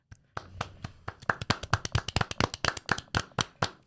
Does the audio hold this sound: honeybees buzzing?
no